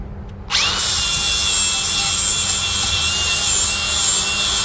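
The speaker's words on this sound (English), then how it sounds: "So use this to buff and polish out your little beads and extra stuff that's there." A power tool buffs and polishes weld beads and grinding marks off a homemade metal show cattle walker, starting abruptly after a quiet moment and then running as a loud, steady whine that holds to the end.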